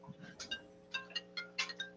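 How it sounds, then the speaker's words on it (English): Office phones ringing in a reseller morning show studio, a faint series of short electronic trills repeating quickly over a low steady hum. "Phones are ringing."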